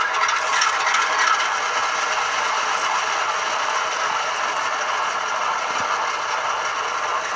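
A DCC sound-equipped HO-scale SP&S Bowser RS-3 model diesel locomotive runs through its shutdown sequence, giving a steady, loud mechanical rattling and ratcheting hum that continues evenly without talk.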